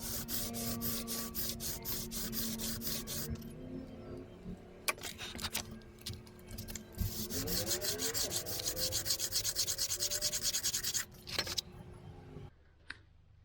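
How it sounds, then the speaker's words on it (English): A spinning metal panel pressed against a hand-held sheet of sandpaper to cut a circular swirl pattern, giving a steady close rubbing, grinding hiss that runs continuously with brief pauses and scrapes. "I pressed it against a piece of sandpaper I held by hand, and that let me give the panel like a circular swirl pattern"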